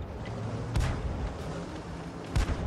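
Artillery fire from a 105 leFH18B2 gun in a tank video game: two deep booming shots about a second and a half apart over a steady low engine rumble, with no talking.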